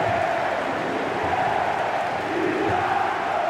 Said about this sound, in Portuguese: Se liga como tá o Maracanã, torcida do Fluminense eufórica.